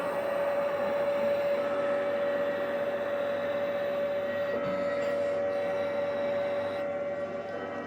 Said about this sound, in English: the tornado sirens are starting to go off in the greater Houston metropolitan area